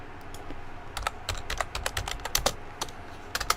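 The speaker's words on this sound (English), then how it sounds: "Is my keyboard playing up?" Close typing on a computer keyboard during a C# WPF coding session, irregular bursts of crisp key clicks with brief pauses, moderately loud and alone with no talking.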